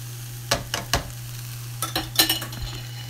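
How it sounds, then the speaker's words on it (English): Beans stirred into a Tex-Mex casserole mixture of rice and beans, a few separate soft scraping strokes of a spoon in a pan over a low steady hum. "Give it a nice little stir."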